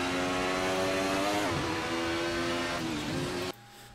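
A 155 DTM touring car's engine rises in a loud, steady drone as it accelerates out of a corner at Brands Hatch Indy, its pitch dipping briefly mid-pull before climbing again, then cutting out abruptly near the end.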